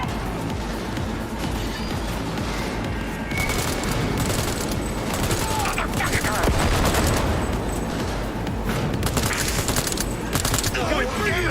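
Gunfire in the Cyberpunk 2077 game, a dense continuous barrage of rapid shots and impacts, loud and busy from start to finish, with chaotic combat noise layered throughout.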